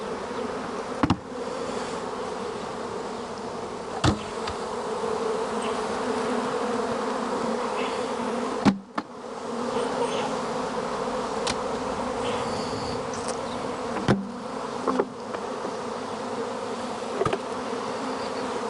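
A dense, continuous drone of many bees buzzing around a hive nearby, steady and loud, with occasional sharp clicks and bumps.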